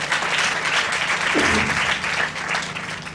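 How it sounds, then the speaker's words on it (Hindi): A congregation at a Hindi church service claps together to thank God, a loud, dense, steady wash of applause with faint voices mixed in. "ताली बजाकर परमेश्वर को धन्यवाद करें"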